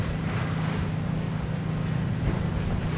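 Twin engines of a Solaris Power 40 Open motor boat running at about 3150 rpm and 33 knots, a steady deep drone under rushing wind and water noise, loud and continuous.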